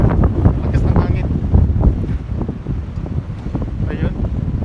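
Strong wind buffets the microphone on a sunny city street, a steady loud rumbling roar with gusty surges throughout.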